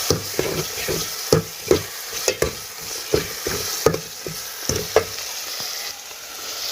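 Garlic tossed into browning onions in a home kitchen pan, with a steady frying sizzle and repeated sharp scrapes and clacks of stirring at an uneven rhythm, no voices.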